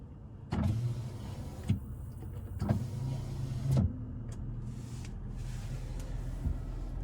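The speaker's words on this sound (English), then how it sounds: "with the push of a button or pulling back, you can control your sliding rear window." Power sliding rear window on a 2020 Toyota Tacoma TRD Off Road running in short motorized bursts, each a low electric whir with a click at start and stop, heard close inside the quiet cab.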